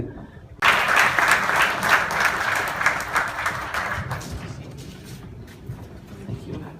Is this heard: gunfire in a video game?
no